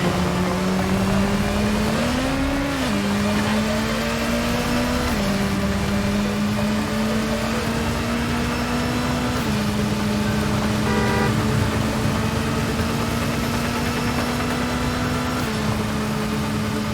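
A car drives through the streets of Gotham in the video game Gotham Knights, its engine a steady, loud hum that shifts pitch a few times as it accelerates and changes gear, with no voices.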